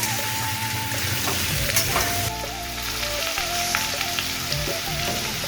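Steady, loud sizzling of frying in a pan seasoned with salt and turmeric, a continuous crackle with a faint tonal hum running alongside.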